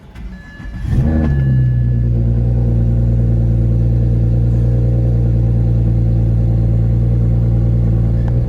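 A BMW N54 engine cranks and catches, then settles into a loud, steady, close idle rumble as it begins warming up.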